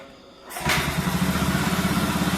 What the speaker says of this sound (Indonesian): Nah teman-teman, alhamdulillah ini motor sudah bisa hidup lagi nih.